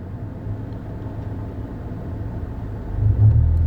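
A manual-transmission car's engine rumbles low and steady, then swells louder near the end as the driver gently accelerates while learning stick shift.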